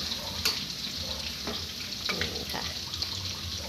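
Pork ribs frying with garlic in a pan, a continuous close sizzle of hot oil with a few sharp pops and clinks of stirring, no voices.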